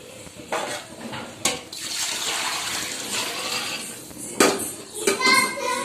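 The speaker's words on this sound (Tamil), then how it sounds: "இப்போ தண்ணி சேர்த்திக்கலாம்" Water is poured into a cooking pot for chicken biryani in a home kitchen, a running splash with clinks of metal utensils and pots, while someone talks nearby.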